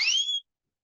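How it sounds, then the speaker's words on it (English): A short electronic siren whistle sound effect: a single bright rising tone lasting under half a second, then silence. "I love my little siren whistles"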